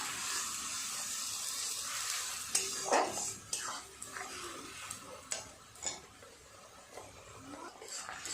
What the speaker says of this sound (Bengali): অল্প একটু জলও দিয়ে দেবে খুব ভালো করে সমস্ত কিছু একটু কষিয়ে নিতে হবে